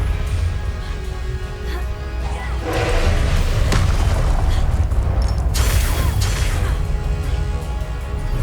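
Confringo, an explosive spell in Hogwarts Legacy, set off during a duel: loud booming blasts and crashing impacts over dense combat noise, with a sharp bright burst near the end.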